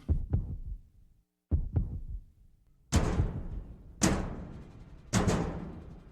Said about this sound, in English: Or is that just your heart beating?